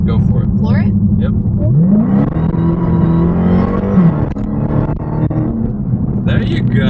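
A Dodge Hellcat floored at full throttle with traction control on, its engine roar climbing steadily in pitch as it pulls hard, loud and continuous from inside the cabin.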